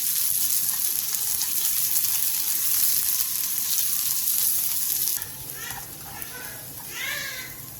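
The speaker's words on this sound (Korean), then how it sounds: "팬에 기름을 두른 뒤 양파를 넣고 센 불에서 양파가 투명해질 때까지 볶아주세요." Sliced onions stir-fry in oil in a pan over high heat, giving a loud, steady sizzle that dominates for about five seconds, then softens as intermittent scraping stir sounds come through.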